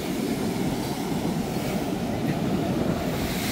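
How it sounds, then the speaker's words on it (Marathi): Big sea waves crash and churn under strong wind at Shanmugham Beach in Thiruvananthapuram, Kerala, a dense, steady roar of surf and gusting air filling the whole stretch without a break. "तर इकडे तुम्ही बघितलं तर लाटा जबरदस्त आहेत"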